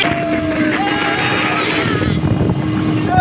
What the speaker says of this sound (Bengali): পিচ বোট কিন্তু অলরেডি ড্রাইভার সাহেব রানিং করে দিয়েছে